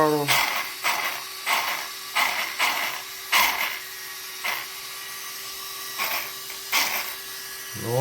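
An electric motor in a Tekno ET410.2 RC truggy race kit build whines up in repeated short throttle bursts, about eight rising pulses with brief pauses between them, close and fairly loud.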